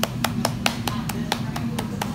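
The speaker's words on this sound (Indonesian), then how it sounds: "Tepuk tangan." A child claps hands about ten times in a quick, fairly regular patter, light and close, over a steady low background hum.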